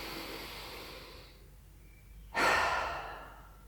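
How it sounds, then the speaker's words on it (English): A deep cleansing breath during a morning yoga routine: a long, soft inhale through the nose tapers off, then after a short pause comes a sudden, louder, breathy exhale through the mouth, close and with no talking. "inhaling deeply through the nose and then out through the mouth"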